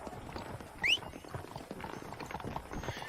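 Horse hooves clip-clop steadily in the Western video game Red Dead Redemption, a soft, quick patter of several horses at close range, with one brief high chirp early on.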